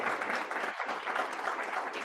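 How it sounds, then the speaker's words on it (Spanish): A crowd claps continuously, a dense even wash of applause with no voices standing out. "Indirectamente les enviamos un aplauso a todos ellos."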